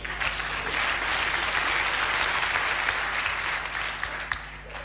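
A studio audience at a radio show recording claps steadily and fairly loud, a dense wash of applause that holds for several seconds.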